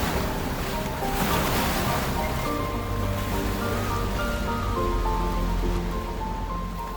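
Waves of the Red Sea in Egypt rolling as steady, loud surf with wind buffeting the microphone throughout, continuous and close with no voices.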